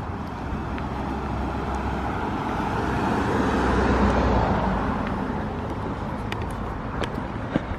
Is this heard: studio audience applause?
no